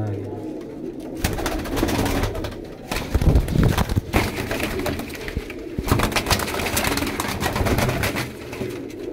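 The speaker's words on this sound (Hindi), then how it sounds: "सारे पुराने कबूतर" Pigeons coo and flutter nearby in a continuous low murmur, with people talking over the birds throughout.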